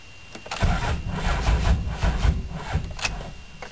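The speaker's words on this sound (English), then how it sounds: "shows you how the starter is when it's cold and when it's hot" A car starter cranking on a hot engine, a loud, strained rhythmic churning that runs for a few seconds after a short quiet start, without the engine catching.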